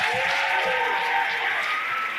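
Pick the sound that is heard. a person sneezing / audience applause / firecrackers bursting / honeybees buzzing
audience applause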